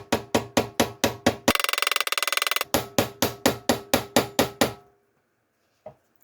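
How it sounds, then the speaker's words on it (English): Ball peen hammer tapping out a sump gasket for a Ford Escort Mk1, struck in a steady run of sharp, close metallic taps, then a quick flurry of rapid blows, more evenly spaced taps, and one final isolated hit after a pause. "simply use a ball peen hammer, such as this. You can make your gasket"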